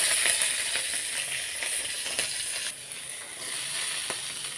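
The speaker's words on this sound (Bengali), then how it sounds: "কড়াইয়ের মধ্যে আরেকটু আবার তেল দিয়ে নিয়েছি। লঙ্কাটাকে একটু ভাজি করে নিই।" Green chilies fry in hot oil in a wok, a continuous close sizzle and hiss broken by small scrapes and crackles of stirring, with no voices over it.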